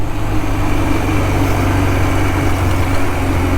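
A 1977 Suzuki GS550 motorcycle engine runs loud and close, with a steady, throbbing low rumble that holds even throughout.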